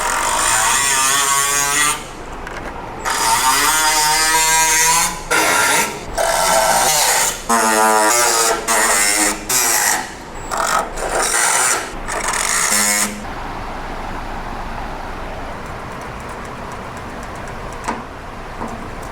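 A power tool cuts into the metal bed panel of a 1962 Chevy C10 pickup, giving loud, harsh, screeching bursts with wavering pitch in repeated short passes, close up, then a steady quieter whir to the end.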